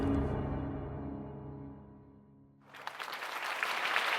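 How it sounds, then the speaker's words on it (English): Thunderous applause bursts up inside a town hall after a quieter low rumbling stretch, loud, dense crowd clapping filling the second half. "the still thunderous applause for little Tommy going on inside"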